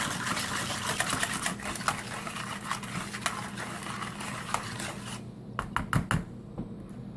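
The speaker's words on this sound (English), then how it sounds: "Just whisk that up real good." Pudding mix, cheesecake flavor, being whisked by hand in a bowl, a steady fast scraping and clicking rhythm that continues for several seconds, close and fairly loud, with no talking.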